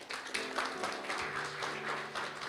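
A church congregation claps for God during a Sunday worship service, a steady patter of many hands held at moderate loudness for a few seconds, with sustained musical tones running underneath.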